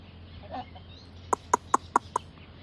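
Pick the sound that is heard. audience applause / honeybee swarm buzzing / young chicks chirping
young chicks chirping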